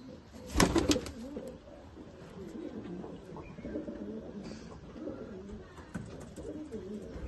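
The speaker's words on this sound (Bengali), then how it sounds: "দেখো বন্ধুরা, এই পায়রাটাও সেল আছে, দারুণ পায়রা।" Pigeons coo repeatedly in a loft of old-breed Mechia Not fancy pigeons, soft throaty calls layered over one another with a brief louder flutter of wings near the start.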